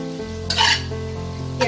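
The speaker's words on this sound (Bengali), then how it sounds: "2-3 মিনিটের মতো আমি তেলে একটু নাড়াচাড়া করে নেব" Onions fry in oil over a medium flame while being stirred, with a soft sizzle broken by two short scraping bursts of the spoon against the pan.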